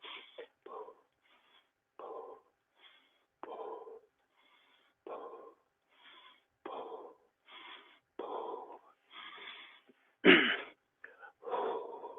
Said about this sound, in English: I'm not talking a lot as you see doing this. I'm breathing.